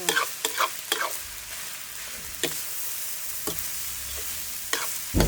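Rice and egg being stir-fried in a pan the old-fashioned way, with repeated sharp spatula scrapes and clacks over a low, steady sizzle, heard alone without talk.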